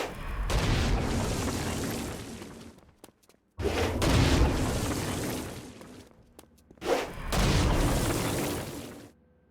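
Three heavy, booming explosion blasts from the video game Saints Row: Gat out of Hell, each a loud, broad roar lasting a couple of seconds, separated by brief near-silent gaps.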